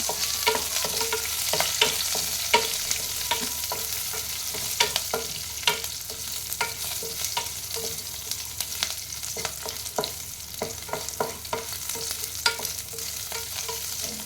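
Green chilies, curry leaves and cashews frying in hot oil while being stirred, a steady close sizzle broken by frequent sharp scrapes and clicks of the spoon against the pan.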